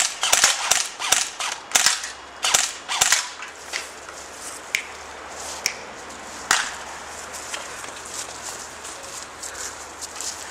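Sharp, close snapping shots from a PJ4 CQB airsoft gun, several fired in quick bursts at first and then sparser single pops, loud against a quiet outdoor background.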